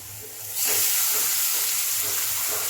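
A hot tempering of spices for dal hits the pan in a home kitchen and bursts into a loud, hissing sizzle that starts abruptly and holds steady without fading.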